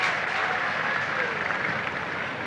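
Steady applause from a cricket crowd at an Ashes Test in Australia after a boundary four, a continuous even wash of clapping with a commentator speaking over it.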